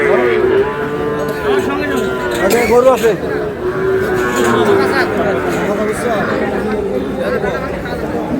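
Cattle moo repeatedly at a Bangladeshi livestock market among bulls and heifer calves, loud drawn-out lowing close by, with a crowd chattering and people talking throughout.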